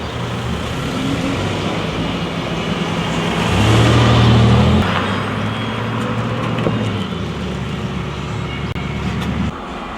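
A homemade electric car conversion drives through the streets of Morrison, Tennessee, giving a continuous rolling hum of tyres and road noise. The noise swells briefly midway as if passing something, then settles back to a steady drone. No one speaks.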